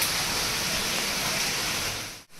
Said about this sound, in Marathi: पाऊसच पाऊस पाऊसच पाऊस.